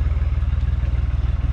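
A Fiat 480 tractor engine runs nearby, a loud, low, rapid chugging with evenly spaced firing pulses and a rattly clatter over the top, holding a steady idle.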